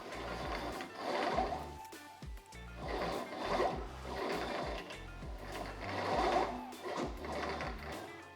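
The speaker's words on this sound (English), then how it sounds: "this little gadget he's got set up here is a straightener" A stainless steel brake line for an XC Falcon panel van is fed through an adjustable pipe straightener, producing a steady mechanical whirring and rattling in rhythmic surges over several seconds, close and fairly loud, with no speech.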